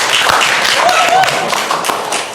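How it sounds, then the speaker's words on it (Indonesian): A talk show audience at a university event claps, a short burst of loud, dense applause that fades slightly toward the end. "Aplaus."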